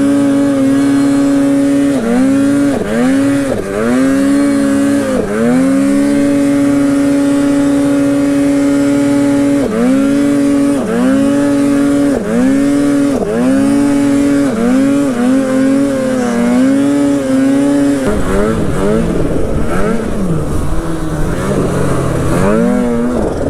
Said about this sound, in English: Do some wheelies to warm it up.